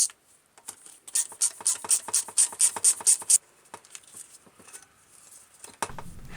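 A Briggs and Stratton 450e engine's air filter box screws are unscrewed by hand, giving close, quick scratchy ratcheting clicks in a dense run, then sparser small taps and handling noises.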